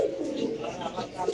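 Young cream bar pigeon cooing softly at close range, a low murmuring coo repeated in short pulses over a busy background.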